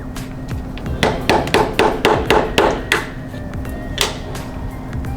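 An Allen wrench taps a pin out of a PF-22 foam cannon, producing a run of sharp, close metallic knocks in an uneven rhythm, with several strikes in quick succession and a few spaced hits after.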